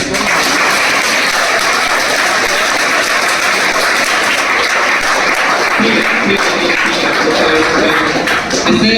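Sustained applause from the audience at a cyber security awareness program, a loud, dense wash of many hands clapping steadily for about nine seconds without a break.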